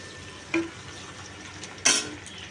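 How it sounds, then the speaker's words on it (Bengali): Quiet frying hiss with two sharp bursts of sizzle as pieces of chicken hit the hot pan and onions, the second louder. "পেঁয়াজটা ভাজা হয়ে গেছে লাল লাল করে, এবার আমি চিকেনটা দিয়ে দেবো"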